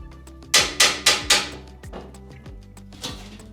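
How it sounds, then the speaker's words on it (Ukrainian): Triangular fasteners being unscrewed with a size 9 socket, a series of close, sharp metallic clicks and ratcheting knocks, four loud ones in quick succession followed by softer, scattered taps. "І ось така головка на 9 і вона підходить, щоб відкрутити це все."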